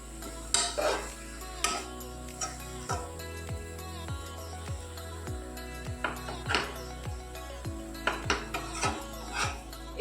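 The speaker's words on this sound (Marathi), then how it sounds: "एक तीन ते चार मिनिट किंवा दोन ते तीन मिनिट परतायचं" Spinach being stirred and sautéed in a pan over a low-to-medium gas flame for a palak soup, with a utensil scraping and clinking against the pan in repeated strokes under a faint background hum.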